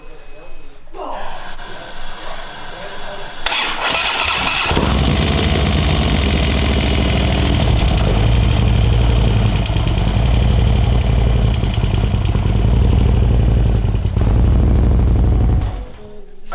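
Harley-Davidson motorcycle engine bored from 103 to 110 cubic inches, cranking and firing after a few quiet seconds, then idling loudly and roughly with a deep, uneven rumble up close before cutting off near the end.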